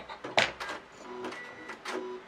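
A Janome MC1200 sewing machine stitches in quick, faint bursts, with light mechanical clicks and whirs close by and short pauses between them.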